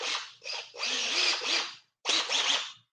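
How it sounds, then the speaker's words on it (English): Power drill running in reverse to drill out a hole during an electronics install on a fishing boat: several loud, close whining bursts with short pauses and one longer gap. "I'm just going to drill it out in reverse first"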